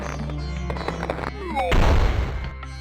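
A bomb goes off in the point-and-click game Gobliins 2: a loud, crackling burst of explosion that rises out of the game's music and tails off after about a second.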